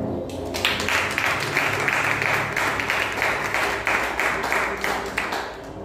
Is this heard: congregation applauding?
yes